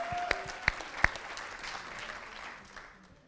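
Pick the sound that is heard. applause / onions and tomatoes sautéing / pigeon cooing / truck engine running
applause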